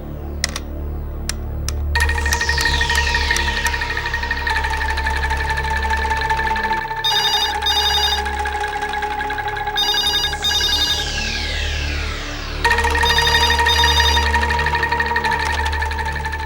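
A telephone ring tone repeats in steady electronic bursts through the call attempt, loud and close over a constant low hum, with no talk.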